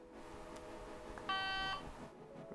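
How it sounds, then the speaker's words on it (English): A Motorola Profile 300e MicroTAC-style phone sounds a single short electronic startup beep, a clear steady tone lasting about half a second against a quiet background hiss. "Let's hear that startup sound."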